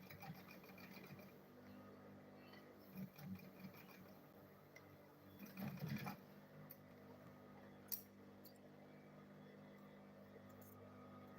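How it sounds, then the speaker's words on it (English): A sewing machine stitches a school bag in a steady, faint, whirring run, briefly louder in places, with no voices over it. "Then I'll sew this one now."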